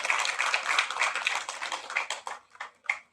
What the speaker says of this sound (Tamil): ஒரு பெரிய கைத்தட்டல்